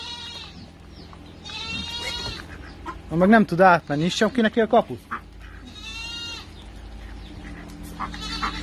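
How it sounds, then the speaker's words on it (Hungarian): Goats at a farm gate bleat in wavering cries near the start and again late, with chicken-like clucks mixed in. Someone talks loudly in the middle, partly over the animals. "Itt meg jön egy büdös kecske."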